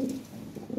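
White Lahore pigeons coo in a soft, low, near murmur, with a couple of short swells near the start and end of the brief stretch; no one talks.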